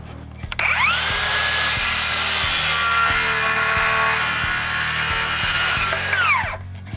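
A power saw cuts an ICON ScrewJoist on a jobsite: the motor spins up, holds a loud, steady whining cut through the joist with faint rhythmic ticking underneath, then winds down near the end.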